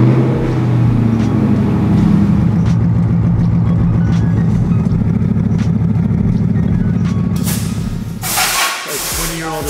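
A 2004 Ford Lightning pickup with a custom Borla exhaust idles loud and close, giving a deep, throbbing, steady burble. Near the end a sudden hiss or rush cuts across the engine note.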